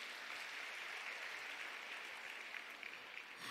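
Church congregation applauding during a sermon: a steady, dense wash of clapping that sounds faint and somewhat distant, continuing evenly throughout.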